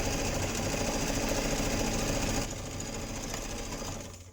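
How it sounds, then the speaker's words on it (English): A sewing machine stitches along a marked line on fabric for a camp chair caddy, a loud, dense continuous rattling drone that eases slightly partway through and fades at the end. "Now I'm just going to put it into my machine here and stitch along that line."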